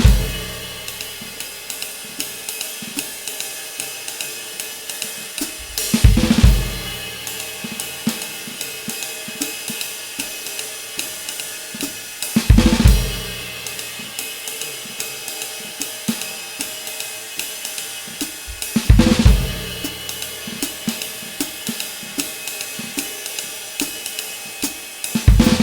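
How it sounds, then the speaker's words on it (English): Snare drum rudiment of five-stroke rolls played as a four-bar phrase at medium tempo, with rapid rolls and accented strokes repeating in a steady cycle, alongside louder crashes roughly every six seconds, solo with no talking. "I'll play the 5-stroke roll in a 4-bar phrase in a medium tempo"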